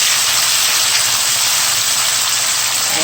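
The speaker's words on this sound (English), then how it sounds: "We're just gonna let this saute" Seasoning for ackee and saltfish sautéing in a pot, a steady, dense sizzle like light rain that holds evenly loud throughout with no talking.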